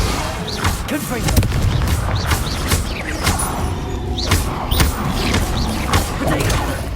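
Blasting spell explosions and combat bursts in the Hogwarts Legacy video game, a dense run of loud booms and impacts over a constant busy battle backdrop with no pauses.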